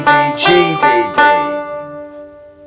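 Irish tenor banjo picking four notes of a jig phrase, each sharply plucked with a bright metallic ring, the last note sustaining and fading out; played up close with no talking.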